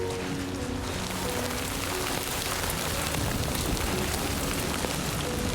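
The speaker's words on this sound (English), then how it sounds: "you'll feel better once we get out of the rain." Rain falls in the video game Death Stranding 2, a dense, steady hiss of drops with a faint low hum underneath and no voices.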